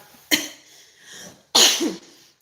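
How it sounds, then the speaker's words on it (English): Two coughs from a person with influenza A, the second louder and harsher with a rough, rasping tail, close to the microphone with a quiet pause between them. "have an ugly cough still"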